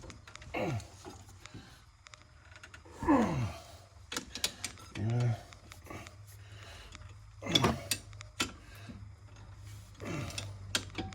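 Tools loosening brake bolts on a Renault Mégane 2 CC during a rear disc and pad change: scattered metallic clanks, ratchet clicks and wrench knocks in irregular bursts, close, with quiet background hum.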